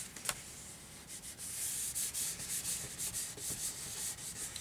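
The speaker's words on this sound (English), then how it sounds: "give it a nice burnish with your finger" A finger rubbing firmly across a paper file folder, making a series of short, rhythmic scraping strokes close up with no voices.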